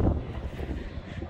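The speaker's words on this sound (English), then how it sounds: "it's like hella windy out here" Gusty wind buffeting the microphone outdoors, a low rumbling roar that swells and fades over a moment.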